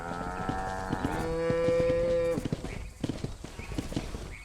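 Cattle lowing on a ranch in the Red Dead Redemption video game, two long drawn-out moos one after the other, followed by steady clip-clop of horse hooves on the ground.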